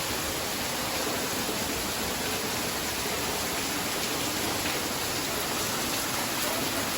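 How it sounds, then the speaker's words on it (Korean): A waterfall at Watkins Glen State Park, heard from behind the falling water, makes an unbroken, dense rushing roar like heavy rain. "폭포 뒤에서 이렇게 폭포를 보니까 엄청나게 비가 올 때 창문에서 밖을 내다보는 그런 기분이 드네요"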